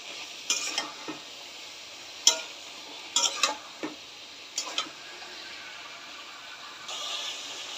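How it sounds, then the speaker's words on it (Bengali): Dried fish, potatoes and eggplant sauté together in a pan: a soft sizzle runs underneath sharp, scattered clinks and scrapes of a spatula against the pan, a few strokes in quick clusters, and the frying noise swells near the end. "শুটকি, আলু, বেগুন সবকিছু একসাথে ভালোভাবে কষাই নিতে হবে।"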